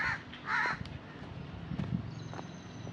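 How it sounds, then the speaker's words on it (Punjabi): Crows caw in a Punjab village, a few harsh calls at moderate distance rising over steady rural background noise, with no talking. "ਛੋਟੇ ਛੋਟੇ ਬੜੇ ਪਿਆਰੇ ਪਰਿੰਦੇ ਕਾਂ ਨੇ"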